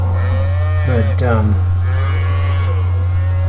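Cattle in a corral low in a couple of loud, close moos over a steady low hum, with a brief spoken word.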